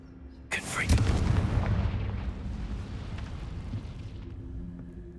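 A Confringo fire spell goes off in Hogwarts Legacy, a sudden loud blast followed by a long rumbling, crackling tail that slowly fades, with a voice talking briefly in the background.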